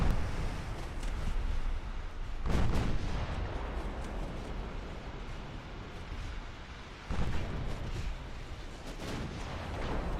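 Warship main guns firing in an Ultimate Admiral: Dreadnoughts sea battle, Japanese Empire 1890 campaign, with two heavy booming salvos several seconds apart over a continuous deep roar of battle noise.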